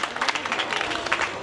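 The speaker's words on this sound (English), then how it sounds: "Let's give a big round of applause to all the participants again." Applause from a school audience at the Campion College History Quiz, a short burst of scattered, uneven hand clapping at moderate volume.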